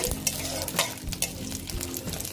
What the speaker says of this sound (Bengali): গোটা গরম মশলা দিয়ে দিলাম, দিয়ে অল্প পুরোটা নেড়ে চেড়ে নিচ্ছি।